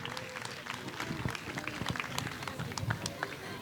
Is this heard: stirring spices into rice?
no